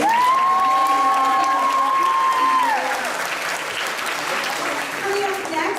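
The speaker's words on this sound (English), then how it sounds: "one more round of applause for the 6th grade team" Dense applause from an audience at an evening school event, cheering on a 6th grade team; it stays loud and steady throughout, with a whistle-like tone and voices mixed in near the start.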